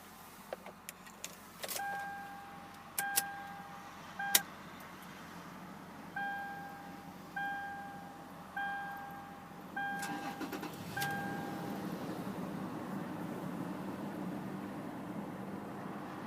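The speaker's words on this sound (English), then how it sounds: "Gotta love that amazing sound from that 4-liter V6." A 2019 Toyota 4Runner SR5's 4-liter V6 engine cranks and catches, then settles into a steady idle, with several short electric whirring bursts earlier on.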